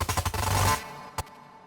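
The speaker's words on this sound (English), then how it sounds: "Percussive, punchy, you know, it's got that computer gnarliness" Punchy, percussive synth hits pulse in a rapid sequence, then cut off, leaving a single sharp hit after a short gap.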